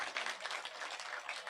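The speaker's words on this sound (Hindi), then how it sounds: "एक बार जोरदार तालियों से अभिनंदन और स्वागत" Applause and clapping from a crowd at a village public rally in Chirsami, Gannaur, steady and fairly faint, continuing without pause.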